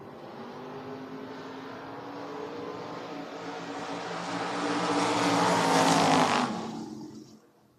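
A drag racing car at a Door Wars bracket race roars past, the engine note building steadily to a loud peak and then fading quickly into the distance, with no voices.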